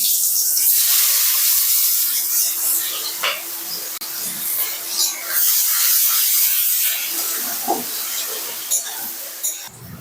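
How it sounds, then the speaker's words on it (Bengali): Bay leaf, dried chili, whole cumin and chopped onion sizzle in hot fish oil in a pan, a steady close frying hiss with crackling bursts and some stirring. "এবার আমি মাছের তেলে এবার আমি ফোড়ন দিয়ে দেবো তেজপাতা, শুকনো লঙ্কা"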